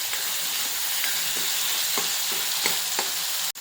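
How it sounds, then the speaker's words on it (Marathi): Finely chopped, salted tomatoes fry in hot oil for a brinjal-potato sabzi, a loud continuous sizzle and hiss with soft periodic scrapes of a spatula stirring the pan and a sharp knock near the end. "टमाटर बारीक चिरलेला आहे तो घालायचा."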